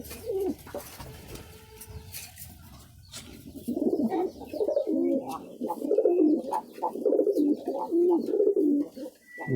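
A Sirazi pigeon coos repeatedly in low, rolling bursts, close and fairly loud, with other pigeons around and some faint chirps in the background.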